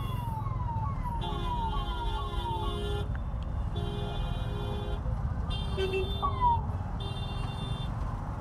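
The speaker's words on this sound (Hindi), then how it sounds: "ये वाला सायरन मुझे भी लगवाना पड़ेगा" An emergency vehicle siren wails in repeating rising and falling tones over constant road rumble on an Indian highway, close and loud.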